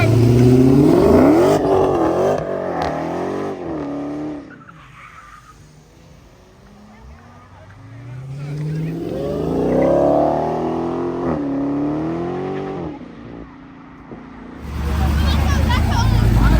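Muscle cars and classic cars pulling out of a Damascus Shriners cruise night car show, engines revving loudly up and down with tire noise, close by, while people talk over them.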